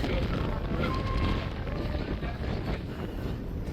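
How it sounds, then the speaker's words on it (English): Strong wind gusting across a cruise ship deck at Celebration Key, a loud continuous rumbling roar buffeting the microphone. "Ooh, that wind."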